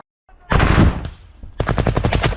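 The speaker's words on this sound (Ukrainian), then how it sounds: "Це стріляє 30 мм." A 30 mm cannon fires in combat, loud and close, first as a heavy blast, then as a rapid burst of about seven rhythmic shots.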